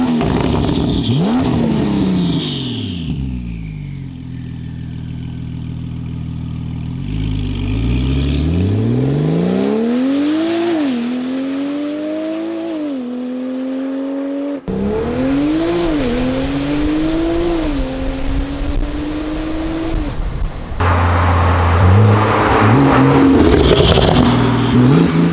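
A Porsche 991 Turbo S fitted with upgraded 68mm turbos accelerates hard through several gears, each loud engine sweep climbing and then dropping at the shift, heard at close range across repeated pulls.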